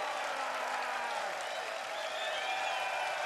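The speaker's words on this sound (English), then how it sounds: "Long time since Dave Cameron's had a round of applause like that." Steady, dense applause and some cheering from a darts crowd at a professional match between Canada and England, sustained and loud throughout, with no talk over it.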